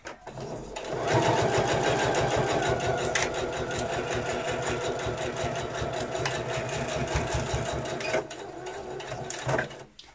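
A sewing machine runs a straight stitch along a fabric pouch with a one-centimetre seam allowance, whirring steadily and close up for most of the stretch, slowing briefly near the end before a final burst.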